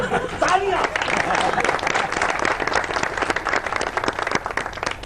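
Studio audience on a Pakistani comedy talk show bursts into steady applause and clapping, loud and dense, with crowd chatter and a voice mixed in underneath.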